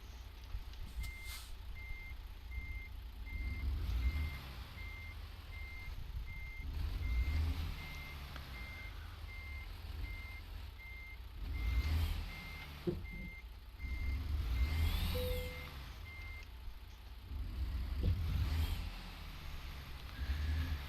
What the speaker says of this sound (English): I literally have to back in this truck.